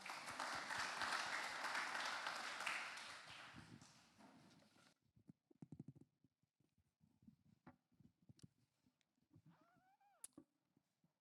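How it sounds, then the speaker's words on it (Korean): Audience applause at the 2025 Size Korea results presentation, greeting a research fellow presenting the Korean body-measurement survey; dense clapping fills the first five seconds, then fades to scattered rustles and small room noises. "여러분 큰 박수 부탁드립니다."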